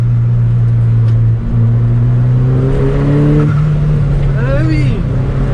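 Alfa Romeo 4C engine pulling hard on a fast Alpine road, a loud steady drone rising in pitch through the revs with a gear change, heard from inside with occupants talking over it.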